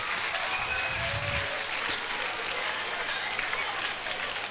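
Audience applause in an Italian theatre, a dense, steady wash of clapping from a crowd, fairly loud and sustained throughout with a brief low murmur early on.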